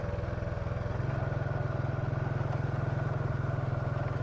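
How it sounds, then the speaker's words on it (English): Motorcycle ridden up a narrow, winding paved road, heard as a steady, close engine drone with a fast, even pulsing beat and no speech. "I'm quite keen to take the bike up this road"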